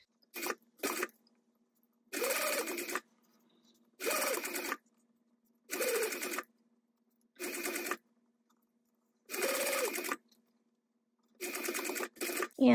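A sewing machine top stitches a zippered hydro pouch in repeated bursts of rapid mechanical stitching, each lasting under a second, separated by quiet pauses, close and clear with no talk.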